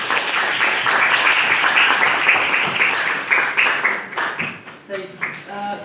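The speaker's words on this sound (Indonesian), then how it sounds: "Tepuk tangan untuk Rangga." A classroom of students applauds for a classmate after a practice teaching exercise on customer communication, a lively burst of clapping that breaks into scattered claps and dies away, with a voice speaking toward the end.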